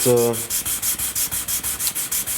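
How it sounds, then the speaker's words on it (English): Rapid back-and-forth sanding on the wing joiners of a Pike Paradigm 5m RC glider, a close, loud, rhythmic rasp of about five strokes per second with no voices. "you basically just sand and fit"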